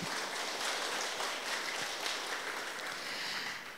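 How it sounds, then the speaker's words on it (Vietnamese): Continuous clapping from a group at a Buddhist dharma talk, moderately distant and even, with no voices over it. "Cho tràng vỗ tay đi."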